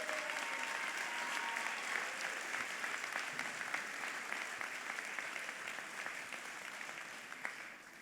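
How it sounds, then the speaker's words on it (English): Audience applause fills a hall at the mayor's 100 days event in Philadelphia, a steady, dense wash of clapping from a large crowd lasting throughout and easing slightly near the end. "Give that a huge round of applause, please"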